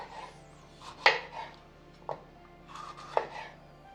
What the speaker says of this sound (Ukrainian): Нарізаємо перчик.